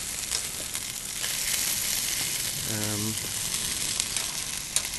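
Peri peri chicken sizzles on a Cobb BBQ grill with a constant close crackle and hiss; a short voiced sound rises briefly in the middle and a small tap comes near the end.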